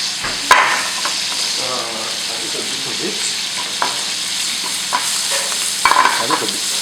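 Onions and spinach sizzle in hot fat in a pan, a steady frying hiss with a few sharp clinks and stirring scrapes along the way, close and moderately loud.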